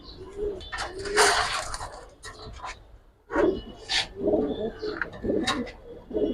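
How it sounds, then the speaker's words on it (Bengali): Young army pigeons coo in repeated throaty bursts, close to the recorder and fairly loud, with short pauses between calls and some scraping and rustling from the birds. "এটা হচ্ছে আর্মি কবুতর আপনার গ্যাসে ডিবে বাচ্চা দুইটাই দুইটাই ডাকে দেখেন"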